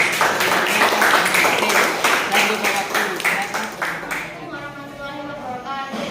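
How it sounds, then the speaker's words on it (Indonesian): Brief, scattered clapping from a small group of students in a classroom rises over the start, then fades out as a voice carries on. "kita berikan tepuk tangan untuk pemaparan dari kelompok 1"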